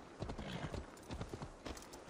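Horse hooves in Assassin's Creed Valhalla beat a quick clip-clop of galloping strikes, fairly faint, in an uneven rhythm over muffled game background sound.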